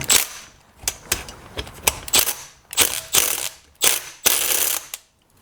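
A tool ratchets in a series of sharp, rhythmic clicking bursts while loosening bolts on a STIHL FS91R string trimmer's clutch, close and loud, with short pauses between pulls.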